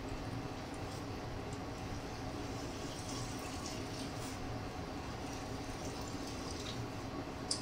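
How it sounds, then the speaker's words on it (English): Wort drains from a raised grain bag into the kettle during a British golden ale homebrew, a faint, steady trickle and gentle splashing that continues evenly throughout without talk. "just let it sit above the liquid about 2 inches while it naturally drains"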